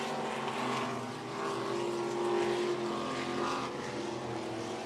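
Pure stock race cars circling 105 Speedway in a heat race, heard as a continuous, fairly distant engine drone that swells and fades slightly as the pack passes.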